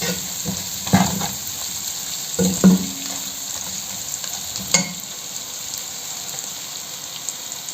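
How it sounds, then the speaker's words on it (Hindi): Chicken jalfrezi fries in a pan, a steady close sizzle broken by a few clanks and scrapes as it is stirred, with no one speaking. "हल्का सा इसको भून लें"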